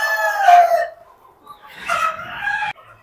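Chickens about sixty days old on a poultry farm, two loud close clucking calls with a short pause between, the second harsher and more crow-like.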